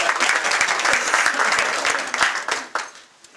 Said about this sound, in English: This is where you guys applaud.